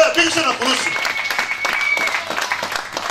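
A church congregation applauding during a sermon, a continuous crowd clapping with voices and shouts mixed in.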